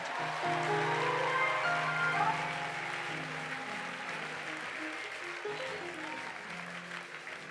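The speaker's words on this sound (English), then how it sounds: "give a big clap for praise" Congregation applause during a church spiritual emphasis service in Adenta, with dense crowd clapping over sustained organ or keyboard chords, loudest early and then easing slightly.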